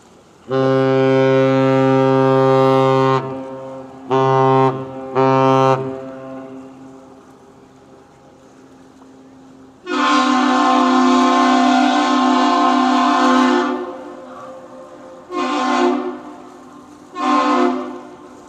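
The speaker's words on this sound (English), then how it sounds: "I definitely want you to hear a horn blast" A deep, loud horn of a 1,000-foot ship in Duluth sounds in long blasts with short bursts between, booming and steady, with quiet gaps separating them.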